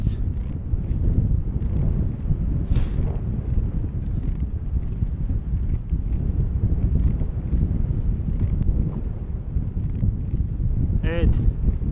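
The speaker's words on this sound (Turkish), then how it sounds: "Çok soğuk esiyor buradan." Cold wind blows hard against the microphone during a climb in the Kayadibi area of Ulus, Bartın, a loud, constant low roar that fills the whole stretch, with faint brief sounds rising above it.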